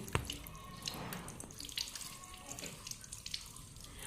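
Water runs from a tap turned low, a steady soft trickle with occasional drips and small splashes, moderately close, with no talk over it.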